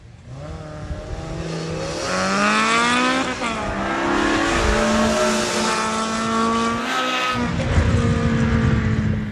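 BMW M3 race cars accelerate hard off the line in a street race, engines rising in pitch through the gears with a loud, sustained roar and brief shifts between revs.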